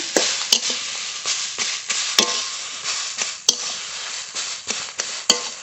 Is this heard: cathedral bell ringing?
no